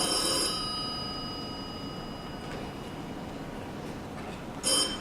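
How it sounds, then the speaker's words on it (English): An old-fashioned telephone bell rings in a brief burst, then falls quiet, then rings again briefly, at moderate loudness in an indoor stage scene. "Mary, get the phone."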